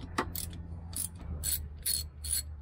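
Ratcheting wrench clicking in short bursts while loosening a brake caliper bolt on a Mercedes-Benz (Freightliner) Sprinter van during a disc brake and pad replacement, close and fairly loud over a low hum.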